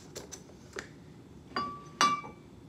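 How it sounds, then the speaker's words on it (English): Glass bottles clink as they are moved aside behind a cocktail bar, a few sparse light taps followed by two louder, ringing clinks, with no talking. "Now to move all these bottles out of the way."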